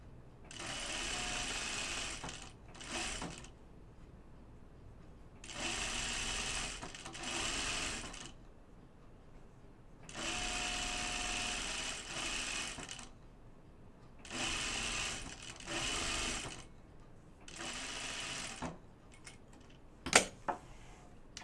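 Sewing machine stitching two rows of gathers for a dress, running in four or five steady bursts of a few seconds each with short pauses between, close and alone.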